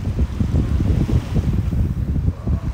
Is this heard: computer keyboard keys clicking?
no